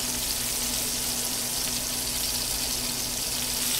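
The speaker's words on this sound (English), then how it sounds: "basically just get a nice brown coloring on the outside to where it's all evenly seared" A pepper-crusted steak sears in a hot pan with a loud, steady, dense sizzle that holds evenly throughout, close up and with no voices.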